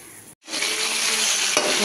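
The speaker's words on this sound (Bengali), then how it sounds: "প্রথমে মাংসগুলোকে সরষের তেল দিয়ে ফ্রাই করে নেবো।" Chicken pieces hit hot mustard oil in a wok with a sudden loud sizzle after a brief gap, then keep frying steadily while being stirred.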